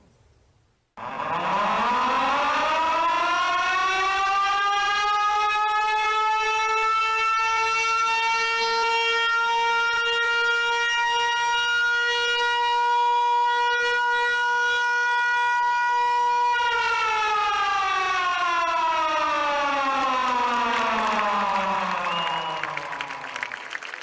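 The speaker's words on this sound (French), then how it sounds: "Elle casse bien les oreilles, ta sirène." A loud siren set off by a button press at the inauguration of a belfry in Le Thor in 2017 winds up, holds a steady wailing tone for about fifteen seconds, then winds down as it fades.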